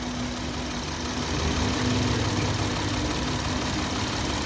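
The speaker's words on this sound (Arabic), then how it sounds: "كده العربية دايرة اهي" A 2018 Opel Grandland engine idling, with a fault mixing water into the oil, heard as a loud, steady, dense rumble with an even hum and no voices.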